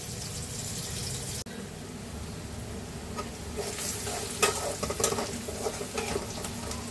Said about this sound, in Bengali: এটা একটু বাদামি করে ভেজে নেব, খুব বেশি ভাজবো না